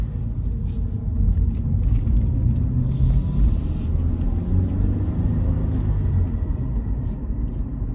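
A 2020 Toyota 86GT with a six-speed manual rolls slowly around a parking lot, its engine a steady low rumble heard from inside the cabin, easing on and off with gentle throttle changes and no talk.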